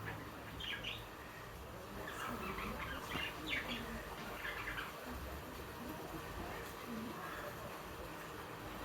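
Budgies chirping softly while feeding one another, with scattered short tweets and chirps over a steady background hum, fairly quiet and somewhat distant.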